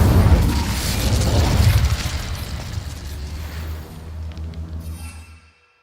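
An Incendio fire spell goes off in Hogwarts Legacy with a loud, deep booming burst that rumbles and crackles for several seconds before fading out.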